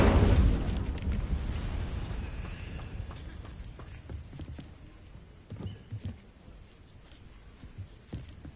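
A fiery Incendio spell blast erupts in Hogwarts Legacy, a loud burst at the start that fades into a long rumbling tail, followed by scattered softer pops and crackles.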